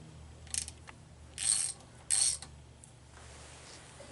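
A wrench tightens a wheel bearing adjuster nut on a spindle, giving a few short ratcheting clicks and metallic scrapes in separate bursts against a low background hum.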